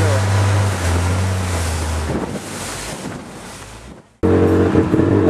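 A boat on the Chao Phraya River in Bangkok, with strong wind buffeting the microphone over a low engine rumble that fades and then cuts in again abruptly.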